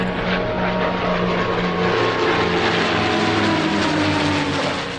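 P-51 Mustang warplanes, including a D model and a two-seat TF, flying past at an airshow: a steady, loud propeller-engine drone that holds continuously throughout with no break.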